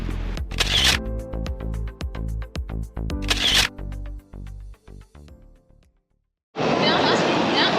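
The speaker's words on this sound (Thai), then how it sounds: "เดี๋ยวเราขอตัว ถ่ายรูปกันแป๊บนึง" A camera shutter clicks in quick repeated bursts while someone takes photos at Tower Bridge in London, and a louder wash of noise breaks in near the end.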